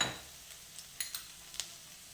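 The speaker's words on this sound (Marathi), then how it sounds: "तेलामध्ये एक चमचा बारीक चिरलेला लसूण घालून घेऊ" Finely chopped garlic sizzles in a small amount of hot oil in a pan, a faint steady hiss broken by a few light spoon taps and clicks against the metal.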